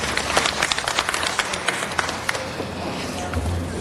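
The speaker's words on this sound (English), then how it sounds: "Give her a round of applause." Applause from a city council meeting audience, scattered claps mixed with crowd murmur and some talking, tapering off toward the end.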